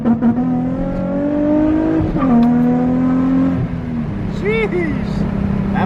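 A Nissan 350Z accelerates hard, its engine note climbing steadily under a loud, close drone, easing off briefly at a gear change before pulling again, with a faint high squeal near the end.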